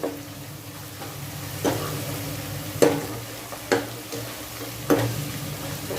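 A kofta mixture of kabuli chana with cumin, ajwain and mustard seeds sizzles in a pan while a spoon stirs it, with about five sharp scrapes and knocks over the steady frying.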